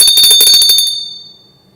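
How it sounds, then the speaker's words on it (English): A set of altar bells rung by an altar server at Mass, a bright cluster of rapid metallic strikes lasting under a second, then a clear ringing decay that fades away alone. "and you ring the bell for the 3rd time"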